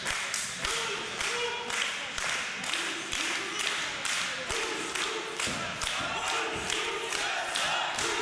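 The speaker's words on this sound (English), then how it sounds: "you can hear the crowd here, Brad, split right down the middle" A wrestling crowd at a women's match, Tessa Blanchard versus KC Spinelli, divided in its support: rhythmic duelling chants and clapping repeat in steady bursts, loud and continuous, with thumps mixed in.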